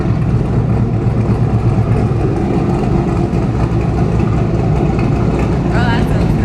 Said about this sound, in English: when it starts really idling, you get a little lope, like a little cam